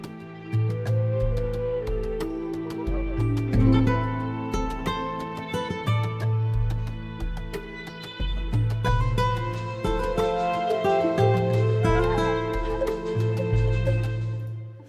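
Black Lotus, a Midiwood virtual instrument, plays a flowing melodic passage with long sustained notes carrying vibrato and swelling dynamics over deep repeated bass tones, continuous and full for about fifteen seconds.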